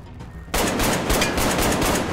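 Rapid automatic gunfire from the ARKTIKA.1 video game breaks in abruptly after a brief quiet moment, then rattles on as a loud, dense stream of shots with no voices.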